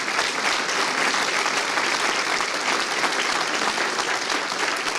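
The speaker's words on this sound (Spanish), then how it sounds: "Y démosle un aplauso al Señor." A church congregation claps steadily and enthusiastically during a sermon, a dense wash of applause that holds even throughout without any talk.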